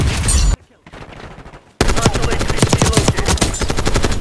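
Dense automatic gunfire from the Call of Duty Black Ops 6 beta, with a loud opening burst, a short near-silent gap, then sustained rapid firing that continues to the end.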